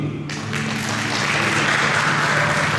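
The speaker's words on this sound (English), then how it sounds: "I wish you all to clap for him." An audience claps for a school farewell event's birthday wish, a broad, steady wash of many hands that swells slightly after a quieter first half-second and continues evenly to the end.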